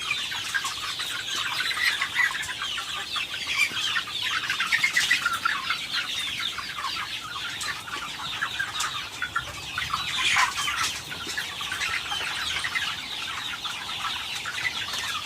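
Many chicks chirp and peep constantly in a brooder at night, a busy, overlapping chorus, with occasional light flutters and scratching on litter, all close by and without speech.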